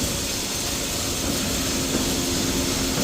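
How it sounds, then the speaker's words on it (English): Grain pouring into a dryer bin on a farm, a constant loud rushing roar mixed with machinery drone, steady and unbroken throughout. "He's filling that dryer bin now."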